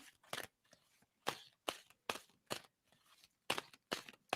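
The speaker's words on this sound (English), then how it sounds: "tell me when I should stop shuffling" Cards shuffled by hand in sharp, separate flicks and riffles at an uneven rhythm, close and soft, with short gaps of near silence between them.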